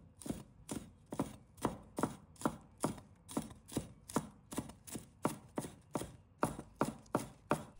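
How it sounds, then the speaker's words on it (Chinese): A knife chops a bunch of scallions into small rings on a cutting board, with about eighteen crisp, evenly spaced strikes at a steady rhythm, close and clear with no talking. "再准备一把小葱， 把它切成葱花"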